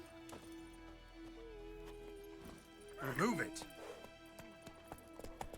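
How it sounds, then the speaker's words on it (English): Horse hooves clip-clop steadily in the video game The Witcher 3, quiet and rhythmic, with a brief loud horse whinny and a spoken voice over them. "My horse just knocked this guy out."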